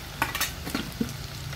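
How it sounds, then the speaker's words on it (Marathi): Brief close sizzle of garlic and green chillies tempering in hot oil, with a few sharp crackles and spoon taps against the pan. "लसूण आणि मिरची फोडणीला घातला की"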